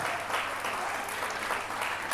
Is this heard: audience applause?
yes